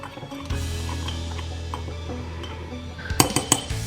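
Cocoa mug cake batter being mixed in a cup, the utensil scraping and clinking against the cup sides steadily, ending in a few sharper knocks.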